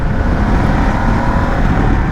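A Ducati Desert X 2026 with an L-twin engine and stock exhaust idles or runs close by, giving a loud, steady, low rumble throughout the short stretch without speech.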